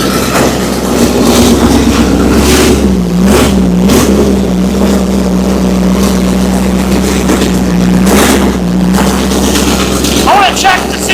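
A Cutlass car engine idles steadily with a low, constant hum and a slight waver in pitch, running throughout with a few faint background knocks.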